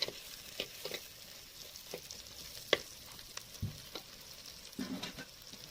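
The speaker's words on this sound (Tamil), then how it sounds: "ரெண்டு கொத்து கருவேப்பிலை சேர்த்துட்டு நல்லா பொன்னிறமாக ஆகிற வரையும் வதக்கி எடுத்துக்கலாம்" Onions and two sprigs of curry leaves fry until golden for a village-style chicken gravy, a steady close sizzle broken by repeated scrapes and clinks of stirring.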